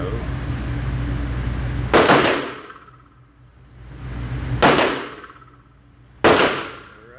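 Three pistol shots from a SIG P365X fired at a steel target, each a sharp ringing clang spaced a few seconds apart, loud and close, with a low hum between them.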